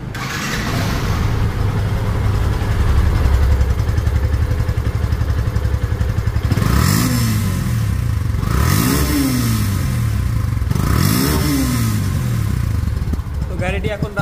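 A Yamaha FZ Version 2 motorcycle from 2022 idles steadily and close by, then gets three rising and falling revs, with someone talking over parts of the engine.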